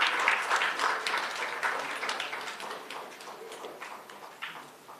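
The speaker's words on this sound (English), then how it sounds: "A big round of applause to all the PhD people." Audience applause at an academic research day ceremony, a steady wash of many hands clapping at moderate volume that slowly fades over several seconds, with no voices.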